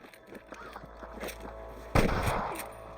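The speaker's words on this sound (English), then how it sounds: "I can hear more gunshots." Scattered video game gunshots from Red Dead Redemption crackle in the distance, then a sudden loud blast of gunfire close by, continuing as a rumbling burst.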